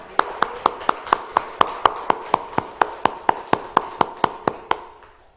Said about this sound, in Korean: 우리 하나님께 우리 감사의 박수, 영광의 박수 올리겠습니다